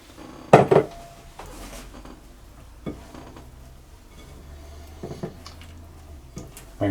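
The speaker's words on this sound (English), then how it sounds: "what I'm going to do now is to put the flour in as well, and I'm going to fold that in" A spatula folds flour into brownie butter cake batter in a mixing bowl, with a sharp clink against the bowl, then soft scraping and a few lighter taps spread across the quiet stretch.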